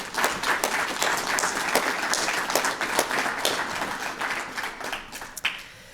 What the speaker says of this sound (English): and I want to give them a round of applause.